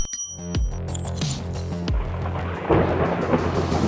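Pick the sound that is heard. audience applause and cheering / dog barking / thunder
thunder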